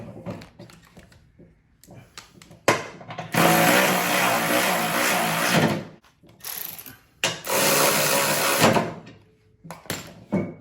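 Power tool or ratchet tightening bolts on the deck pulleys of a John Deere E130 riding mower during a belt install, two loud sustained bursts of a few seconds each with quieter clicks and handling between them.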